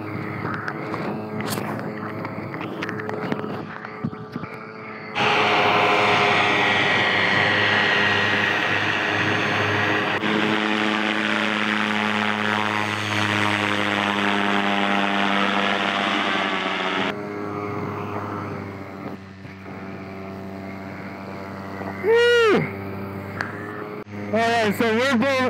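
An electric paramotor flown with a speed wing runs its propeller motor in flight, a loud steady whirring drone that swells and shifts pitch over wind rush, with someone talking over it.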